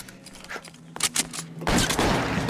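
Gunfire in the video game L.A. Noire, a police detective shooter: scattered sharp shots, then a dense, loud volley of rapid fire that carries on to the end.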